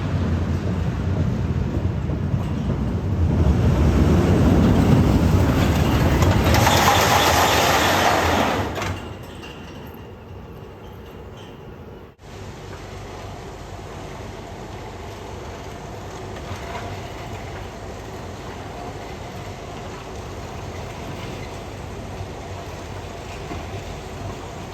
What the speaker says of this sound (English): we can expect the train to stop dead when it gets onto the brake run